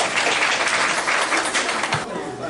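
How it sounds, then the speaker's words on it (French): A school year-end celebration audience applauds in a dense, steady wash of clapping, fairly loud and sustained, with a few individual claps standing out. "je vous demande une fois de plus de les applaudir"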